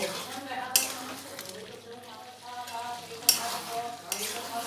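Chicken and fried potatoes are stir-fried in a pan for a Gondhoraj chicken dish, with a low sizzle, scraping stirs and sharp metallic clinks of a spatula against the pan at irregular moments, close and clear.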